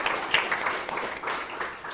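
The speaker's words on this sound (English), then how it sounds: "Let's do a quick clap at the" A brief round of audience clapping at a short story award ceremony, a dense patter of hands at moderate volume, close and even.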